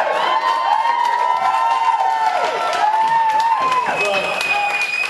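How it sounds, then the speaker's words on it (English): A comedy club crowd breaks into loud applause and cheering, with whoops and shouted voices over steady clapping that fills the room throughout. "Without even telling a joke, I got a round of applause."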